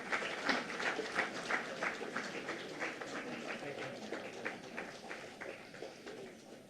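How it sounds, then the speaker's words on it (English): An audience at a university inauguration ceremony applauds for the chief guest, steady moderate clapping from many hands throughout, heard from a middle distance in a hall. "Please, all of you, kindly applause."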